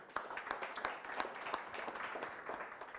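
An audience at a breakfast talk applauds the speaker, a dense patter of many hands clapping steadily for a few seconds, fairly distant in the room.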